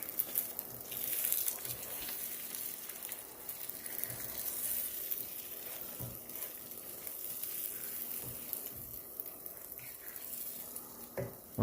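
Onions and bacon fry in a pan with a steady soft sizzle and hiss, fairly quiet, broken by occasional clinks and scrapes as food is turned.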